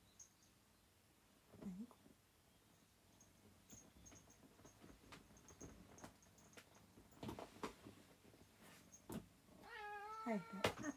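A cat lets out a short meow early on, then a run of louder, drawn-out meows near the end, against a quiet indoor background with soft clicks and rustles.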